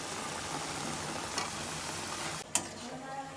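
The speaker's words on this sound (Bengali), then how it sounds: "মশলা দিয়ে টমেটোগুলো কষিয়ে দিচ্ছি, সাথে কয়েকটা আলু দিচ্ছি।" Tomatoes and potatoes frying with spices in a pan, a soft continuous sizzle with a couple of sharp utensil clicks near the end.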